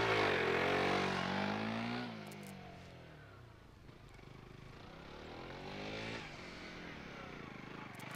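A motorcycle engine roars loudly nearby on a motogymkhana practice course, its pitch sliding down as it passes, then a second rise as the bike revs again at a distance.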